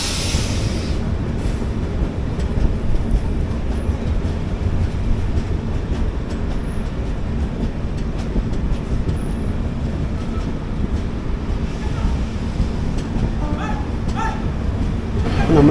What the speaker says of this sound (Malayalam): യശ്വന്ത്പൂർ കണ്ണൂർ എക്സ്പ്രസ് 16528 ആണ് ട്രെയിൻ